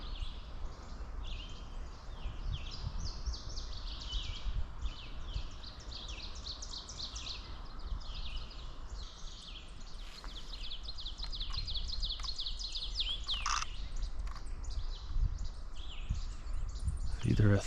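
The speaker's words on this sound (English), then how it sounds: "Either a thrush or a veery." A thrush or veery sings outdoors with a busy run of high, fluty chirps and trills that continues throughout. Other birds join in, and the song rises over a constant low rushing background.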